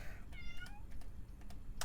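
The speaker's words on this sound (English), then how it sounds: "No, kitty, no. Don't yell, please." A pet cat lets out a loud, drawn-out meow with rising and falling pitch, then a second shorter cry, over steady keyboard clicking and a background hum.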